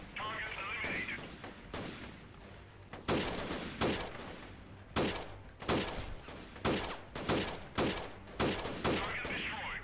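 Rapid bursts of machine gun fire and heavy gunshots in the video game Freeman: Guerrilla Warfare during a frontal assault on a town, cracking in clusters of sharp loud volleys over a constant battle din.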